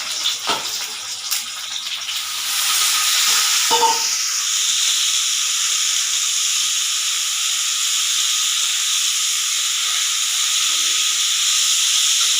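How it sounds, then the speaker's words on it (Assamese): Bitter gourd and potato pieces fry in hot oil in a home kitchen, a soft hiss at first that swells after a couple of seconds into a loud, steady sizzle with no talk. "এয়া ভাত কেৰেলা আলু ধুনীয়াকৈ ভাজি আছে"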